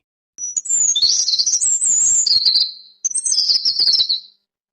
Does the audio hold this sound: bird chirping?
yes